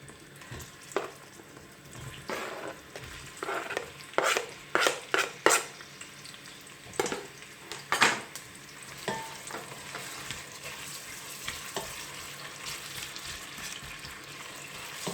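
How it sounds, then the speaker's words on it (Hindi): Two medium chopped onions fry in oil for daal mash, a continuous close sizzle punctuated by a run of loud spoon scrapes and pan knocks early on, then settling into steadier stirring with no talking. "प्याज को फ्राई करना है लाइट ब्राउन सा।"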